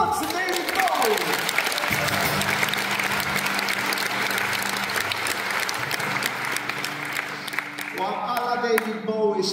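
A live concert crowd at Palladium Malmö applauds, broad steady clapping and cheering while musical tones and a voice sound over it, with more music rising near the end.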